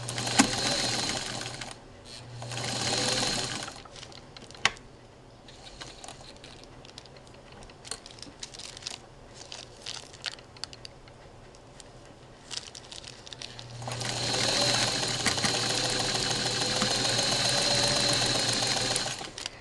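A sewing machine runs close and steady, stitching a doll sweater made on a Nellie Bee weaving loom, with a dense mechanical whir that surges in loud bursts, pauses with quieter clicking and handling between runs, then runs long and hard again.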